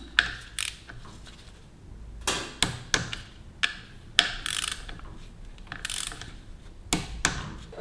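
Clutch spring bolts on a 2022 Repsol Honda Grom, fitted with Motobros springs and a lifter plate, are tightened with a ratchet: irregular bursts of sharp mechanical clicks and ratcheting close by, with no talking.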